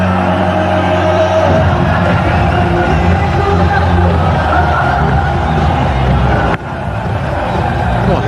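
A packed stadium crowd at an India vs Pakistan cricket match roars loudly and continuously, a dense wall of cheering and shouting that briefly dips before surging again, with a commentator's voice under it.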